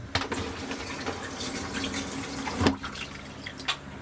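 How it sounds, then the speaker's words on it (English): A small shower sprayer in an RV bathroom runs water in a steady hiss with splashes and a few drips, close by, no voices. "We got a little sprayer. This thing works. On and off valve back there. Shower works."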